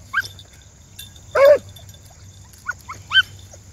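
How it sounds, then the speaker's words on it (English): Outdoors near weeds, a dog gives several short, high yips and one fuller whine-like cry, scattered irregularly and close, against a quiet background hum. "There, you hear him yiping?"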